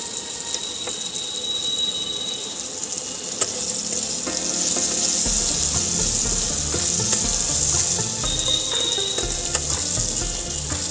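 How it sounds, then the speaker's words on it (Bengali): Lentil dumplings (bori) frying in the oil left over from frying fish, a steady close sizzle and crackle throughout that grows louder and fuller midway, with a faint squeal now and then. "এই যে মাছ ভেজেছিল সেই তেলেই আমি বড়ি ভেজে নেব।"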